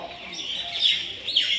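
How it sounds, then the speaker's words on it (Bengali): Birds chirp before dawn near New Cooch Behar railway station, a few bright high calls rising and falling over faint background noise, close and brief. "আর কিছুক্ষণের মধ্যেই ভোর হবে। পাখি ডাকছে,"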